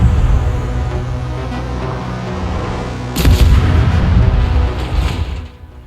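Naval gunfire in a warship video game aboard the German cruiser Kolberg: a deep booming salvo hits midway through, over a constant low rumble of engine and sea.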